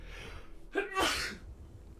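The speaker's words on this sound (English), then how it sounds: "I'm feeling a sneeze coming" A single sharp sneeze close by, a quick inhaled catch followed by the explosive burst, then quiet.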